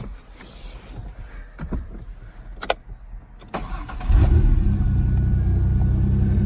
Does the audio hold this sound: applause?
no